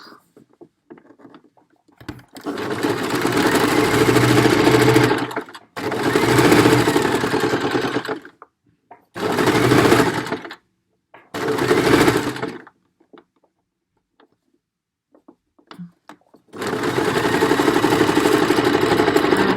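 Domestic sewing machine stitching the lower neck section of a cotton fabric protective mask, running in several loud bursts of a few seconds each separated by pauses, with no talk.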